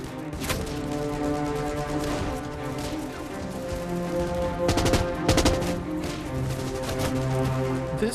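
Gunfire from WWII combat as Rangers clear German bunkers and machine-gun nests uphill: sharp bursts of rapid shots crack out over a dense, steady background hum, with clustered volleys around the middle.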